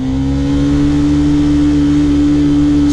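A 250cc sports motorcycle engine revs close by, a loud steady hum holding one pitch through the whole stretch, alone without talk.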